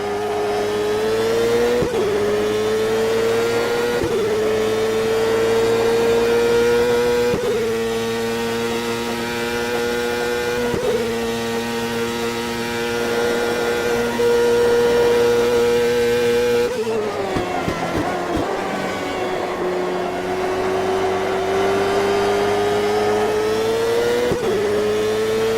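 CART race car engine lapping Emerson Fittipaldi Speedway in the Automobilista CART Extreme mod, a loud sustained harmonic roar with regular pitch dips at gear shifts and a sharper drop near the end, no talk.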